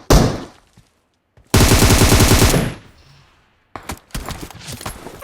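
Bursts of rapid automatic gunfire erupt in PUBG Mobile: one short volley, then a loud sustained rattle lasting about a second, then after a pause a choppy cluster of further shots, with silent gaps between.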